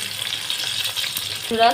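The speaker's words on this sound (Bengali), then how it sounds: "সবগুলোই সুন্দর ভাজা হচ্ছে" Yardlong bean pakoras fry in hot oil with a steady, close sizzle and bubbling, a soft clink of a utensil near the end.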